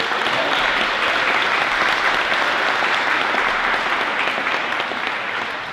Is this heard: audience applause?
yes